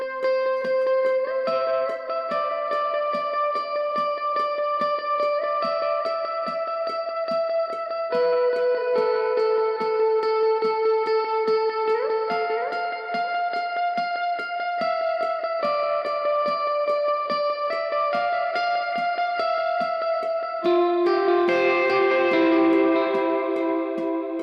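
Electric guitar plays the chorus progression of Holy Forever with a suspended-chord ending, a continuous flow of picked notes and shifting chords with a bend near the middle and a brighter, thicker strum at the close, no voices.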